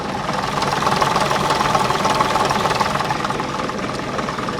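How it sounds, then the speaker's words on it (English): A 150-horsepower AEC engine in a restored railway railcar runs steadily with a loud, close, even diesel drone and a knocking rumble, with no talk over it. "we've got the AEC engines. These are 150 horsepower, just like the Leyland engines, but I've been told sound so much better."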